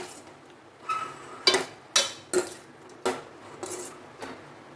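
A spoon stirring tomato dal with chopped tomato in a metal pan: a run of sharp scraping clinks, about eight, at an irregular pace over a quiet background.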